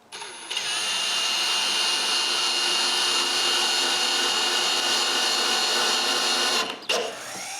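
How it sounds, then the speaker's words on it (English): A power drill drives a screw through a glued wood piece into a 2x4, one continuous steady whine lasting several seconds and then cutting off abruptly. "I just need to glue and screw it on another piece of 2x4."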